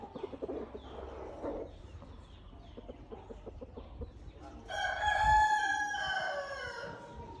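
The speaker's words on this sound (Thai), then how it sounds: "แอบดูไก่กุ๊กกุ๊ก ไก่กุ๊กกุ๊ก อยู่ข้างนอกตัวเดียว" Quiet outdoor clucking and rustling give way to a loud, close rooster crow lasting a couple of seconds.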